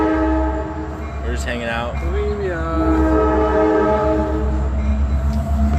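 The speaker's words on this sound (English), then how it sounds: "Might as well just wait for the train." A passing train sounds a loud, sustained horn over heavy rail rumble, with people chatting nearby during a bike trip stop.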